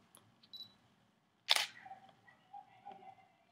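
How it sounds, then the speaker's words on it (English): A single sharp shutter release from a Canon T4i DSLR set to a fast shutter speed, one close, crisp click standing out against a quiet room. "watch what happens when I hold down the shutter button"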